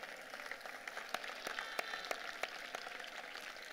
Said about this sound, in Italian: Un applauso a Roberto Bossi